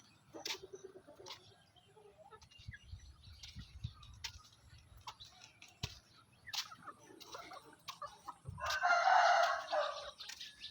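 Rooster crowing outdoors in the morning after the chickens are brought outside; scattered clucks and small bird calls lead to one loud, drawn-out crow near the end, with no speech.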